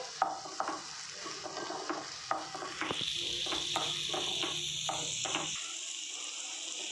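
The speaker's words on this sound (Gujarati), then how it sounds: "ડુંગળીને આપણે ત્યાં સુધી સાંતળવાની છે કે જ્યાં સુધી એનો લાઇટ પિંક કલર ના આવી જાય" Onions and cashews sauté in a pan for mixed vegetable sabzi, a continuous close sizzle with repeated stirring scrapes and spoon knocks that stop partway through while the frying hiss carries on.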